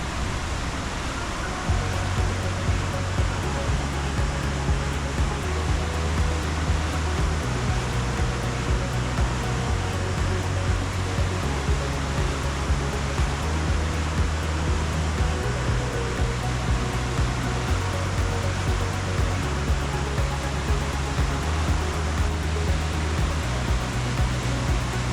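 River water rushes past on a bike trip, a loud, constant broadband roar that fills the whole stretch, with a faint low tonal hum running beneath it.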